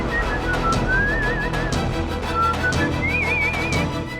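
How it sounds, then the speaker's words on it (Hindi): A warbling whistle sounds in short wavering phrases in a Hindi drama scene, a couple of bursts over a busy, loud background of other sound. "सीटी की आवाज"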